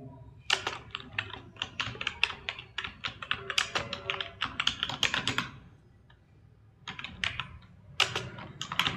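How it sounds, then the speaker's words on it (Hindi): Keys clatter steadily on a computer keyboard while a certificate is typed up in MS Word, with quick irregular taps in bursts and a short pause before the typing resumes, close and clear with no talk. "इसमें टाइप करते हैं"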